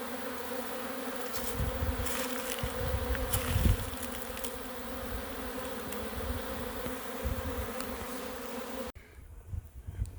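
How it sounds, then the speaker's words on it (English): Dense, steady buzzing of a crowd of honeybees swarming a sugar water community feeder in a beekeeping yard, close and continuous for about nine seconds before dropping to near quiet. "Just look at all the bees."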